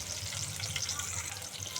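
Cumin seeds and green chillies frying in hot oil for an egg and tomato masala curry, a steady close sizzle with soft bubbling that holds evenly throughout.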